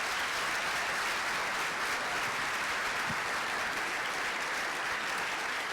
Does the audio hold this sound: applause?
yes